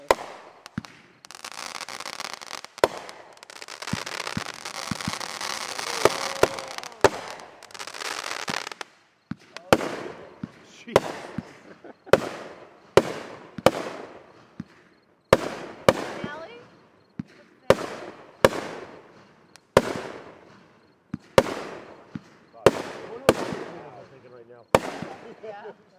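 Fourth of July fireworks in 2011, a dense crackling barrage at first, then a long series of sharp, loud, separate bangs each ringing out and decaying, with people talking between them.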